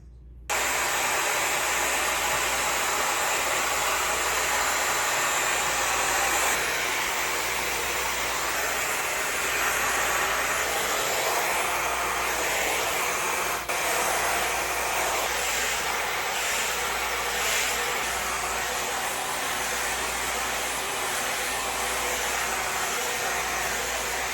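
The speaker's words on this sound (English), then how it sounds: "let me get the diffuser. I'm gonna start by just holding it at my roots like this" Hair dryer fitted with a diffuser blowing at the roots of curly 3A hair, a loud continuous airy roar that holds steady throughout with no talking.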